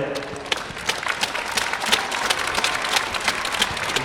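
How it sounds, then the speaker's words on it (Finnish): Audience applause for two boys at a DHL soccer skill competition, a steady dense clatter of many hands with sharper individual claps, close and sustained throughout with faint voices mixed in. "suuret aplodit molemmille pojille"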